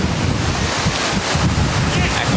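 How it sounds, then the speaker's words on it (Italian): Strong wind buffets the microphone in a constant roar on a beach on Sardinia's west coast, with the wash of surf blended underneath; no one speaks. "Qua l'aria, il vento tira forte"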